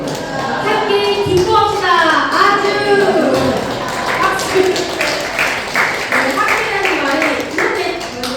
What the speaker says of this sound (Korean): 아주 박수.